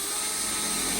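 A power drill boring holes in a Ford door panel runs loud and close, one continuous high-pitched whine with no pause.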